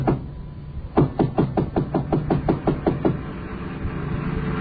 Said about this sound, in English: I knocked on the door.